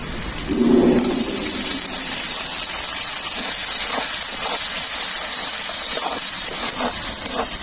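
Chopped tomato hits a frying pan of lightly fried onion and whole cumin and sizzles loudly and steadily throughout, a continuous bright hiss with faint crackles, close up and with no voices.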